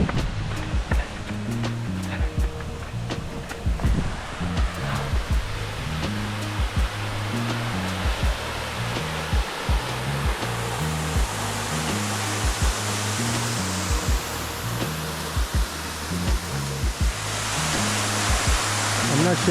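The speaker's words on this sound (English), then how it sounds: "I'm not sure if I want to get into this waterfall." A waterfall outdoors in nature gives a steady, broad rushing roar, loud and continuous throughout, with rhythmic thumping and faint voices mixed in.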